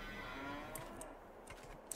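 Cows in the Farming Simulator video game give low, drawn-out moos, faint and distant, over a quiet background with a few small clicks near the end.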